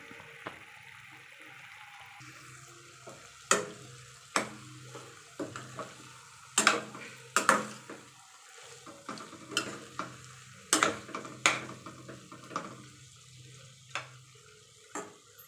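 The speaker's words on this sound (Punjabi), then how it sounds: "ਹੁਣ ਅਸੀਂ ਇਹਦੇ ਵਿੱਚ ਕੜਛੀ ਮਾਰਾਂਗੇ" A ladle stirs green pumpkin curry frying in a pan, scraping and clacking in irregular strokes close by over a steady low sizzle.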